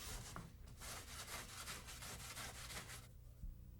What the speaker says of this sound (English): sand the edges with medium 100 grit sandpaper